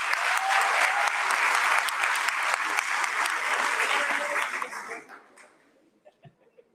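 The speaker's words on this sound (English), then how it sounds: "Let's please give Commissioner Meredith Tuitt another round of applause" Audience at an awards celebration hall applauds in a full, steady burst of clapping that fades out over a couple of seconds, leaving a few isolated claps and near silence at the end.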